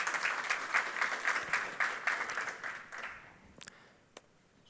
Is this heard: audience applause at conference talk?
yes